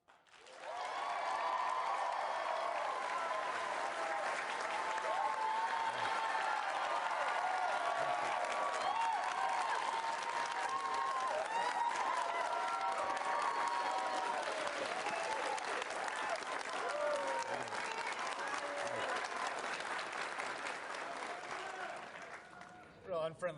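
A large crowd applauding Senator Bernie Sanders, sustained dense clapping and cheering that holds steady for over twenty seconds before tapering off.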